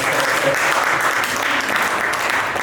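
Sustained applause from a crowd, steady and dense clapping throughout with no pauses.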